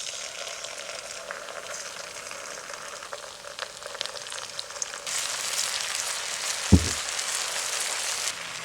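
A steady hiss of yogurt frying over low heat in a pan for a mutton curry, which grows louder and brighter partway through, with a brief clink near the end.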